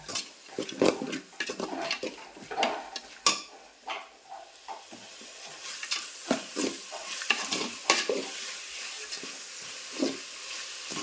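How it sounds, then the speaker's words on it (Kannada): Peanuts frying in hot oil for mango churumuri susla, a close sizzle broken by repeated stirring scrapes and clacks of a spoon against the pan, irregular and busy throughout, no talk. "ಶೇಂಗಾ ಬೀಜನೂ ಎಣ್ಣೆ ಒಳಗೆ ಫ್ರೈ ಹಾಕ್ತೀನಿ"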